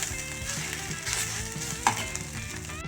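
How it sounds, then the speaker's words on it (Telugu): Tomato egg bhurji fries and is stirred in a pan, a steady close sizzle with soft scraping strokes and one sharper clink, while low hum sits underneath. "ఇలా అంతా బాగా కలుపుకొని ఫ్రై చేసుకోవాలి బాగా"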